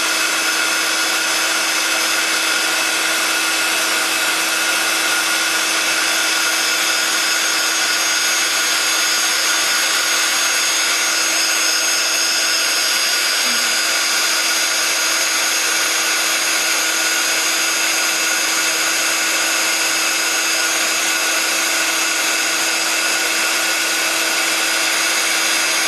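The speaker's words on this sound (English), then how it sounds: "Heating up my heat gun, just giving it a couple of seconds to heat up." A heat gun used for embossing runs with a steady, loud, close blowing whine that holds unchanged from start to finish, with no other sounds over it.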